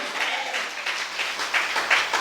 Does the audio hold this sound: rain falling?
no